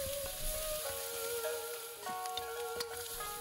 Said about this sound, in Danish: Lidt mere olie i woken, og så kommes ingefær og hvidløg ved og steger i nogle sekunder.